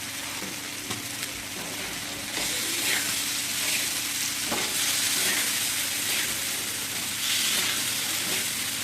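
Boti pepper fry, goat tripe cooked with crushed black pepper, sizzling in a pan while being stirred, a continuous frying hiss with scraping spoon strokes that grows louder partway through and carries no talk.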